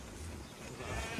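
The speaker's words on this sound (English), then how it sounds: "At last the sheep were unloaded." Sheep bleating during unloading at a market, a brief animal call over a steady, noisy background with no talk, rising slightly in loudness toward the end.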